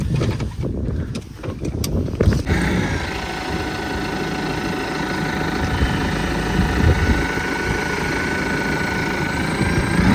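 An 80 HP Deutz-Fahr tractor engine drones steadily while driving a machine, a loud, continuous, close-up hum that settles in after a few brief knocks and thumps at the start.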